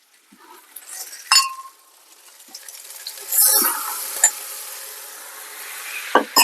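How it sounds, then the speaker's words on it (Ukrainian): Eggplant and tomato sauté stirred in a pan outdoors, a few sharp utensil clinks against the pan over a soft background sizzle, with a brief louder scrape near the middle. "Знову ж таки перемішуємо."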